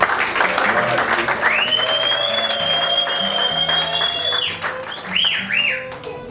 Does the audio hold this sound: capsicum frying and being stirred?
no